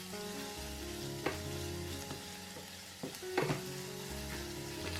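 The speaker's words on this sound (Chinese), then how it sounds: "把蒜蓉放进去炒鲜。" Minced garlic stir-fried in hot oil in a wok, a steady close sizzle with a few sharper crackles and spatula scrapes, no voices.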